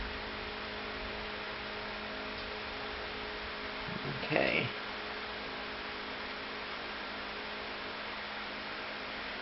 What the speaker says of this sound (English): find that air conditioner running in the background was very stressful or distracting